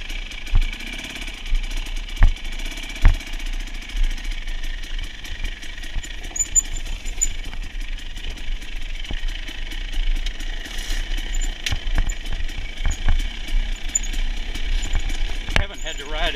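A vehicle engine runs after the throttle opens on a back trail, rattling unevenly at mid distance with sharp knocks and clicks. Wind and handling noise sit beneath it.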